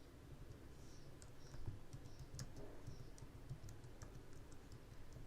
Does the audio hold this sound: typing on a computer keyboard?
yes